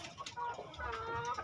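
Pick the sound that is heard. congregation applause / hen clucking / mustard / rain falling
hen clucking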